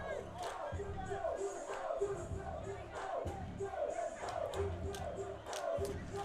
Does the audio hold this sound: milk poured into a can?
no